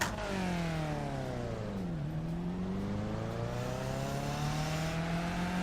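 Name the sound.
race car launching from start, racing video game at VIR North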